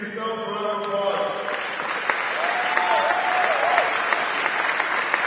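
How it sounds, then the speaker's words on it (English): Crowd applause fills the gym at a 17U boys basketball championship gold medal game, dense sustained clapping and cheering, with a voice talking briefly over the start. "Please give yourselves a round of applause."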